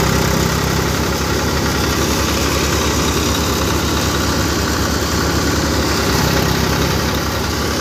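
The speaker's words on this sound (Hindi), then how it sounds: "साउंड दोनों ट्रैक्टर की" Old tractor with single clutch and non-power steering idling at a threshing site, a loud, close, continuous pulsing engine drone with heavy vibration and no talk.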